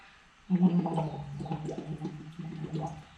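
Bubbling blown through a tube into water in a vocal exercise, a voiced hum driving steady gurgling bursts that start abruptly and continue in a rough, pulsing rhythm, close and fairly quiet.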